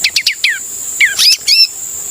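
Red-headed prinia calling up close, a quick run of bright chirps followed by a few sharper whistled notes, loud and clear with nothing else heard.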